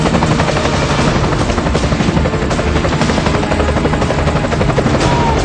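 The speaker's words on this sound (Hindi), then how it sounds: "देखिए कैसे सिर्फ 15 मिनट में नेवी के हेलीकॉप्टर लोटस पार्क बिल्डिंग की" Navy helicopters hover over the roof of the burning 22-storey Lotus Park commercial building in Mumbai, their rotors producing a loud, steady, close thudding chop that fills the whole stretch without pause.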